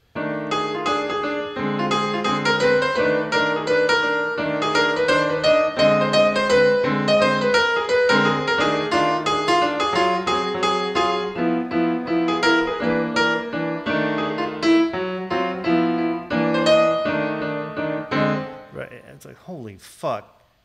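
A DX7 synthesizer plays a bluesy improvised blues-scale melody with steady chords underneath, continuous and fairly loud, ending with a short burst of noisy sound.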